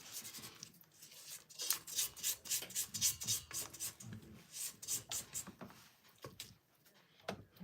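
A spatula scrapes down pumpkin spice cheesecake batter in a bowl, a rapid series of close rubbing, rasping strokes over several seconds with no talk.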